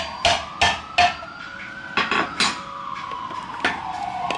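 Sharp metallic taps of a hammer driving a screwdriver through a thin metal jar lid to punch holes, several separate blows spaced irregularly with a ringing tone between them.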